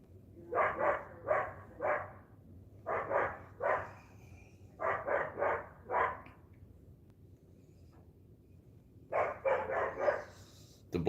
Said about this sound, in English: It's not my dog, it's my neighbor's dog.